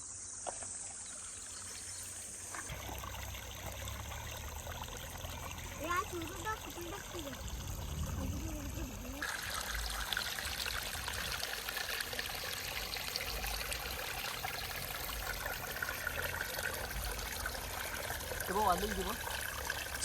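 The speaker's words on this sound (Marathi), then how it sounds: "गरम पाण्याचे झरे निर्माण होतात" Hot spring water flows and trickles steadily, with faint insect chirps and distant voices in the background.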